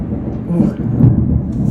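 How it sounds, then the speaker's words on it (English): Thunder rolls outside as a low, steady rumble that fills the whole moment, heard from indoors and moderately loud, with no voice over it. "It is thundering out there, guys."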